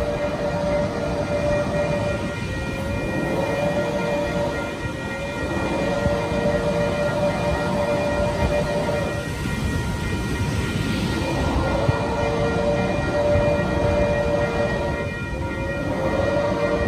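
Metrolink train 860 passing at San Clemente, a loud, steady rumble of rolling wagons with sustained tonal horn-like lines running through the whole pass.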